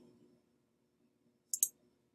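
Mouse clicks on a computer, a quick double click, crisp and close in an otherwise quiet room after faint voice.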